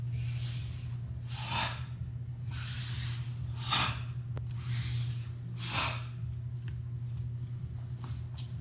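Five forceful, rhythmic breaths, each a sharp rushing exhale, come from a person during an aikido kiri-gaeshi sword drill, close up over a steady low hum.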